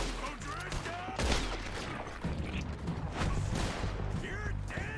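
Gunfight in the Western video game Red Dead Redemption 2, a dense barrage of overlapping gunshots with sharp cracks, ricochet-like whines and mechanical clicks, loud and continuous over about five seconds.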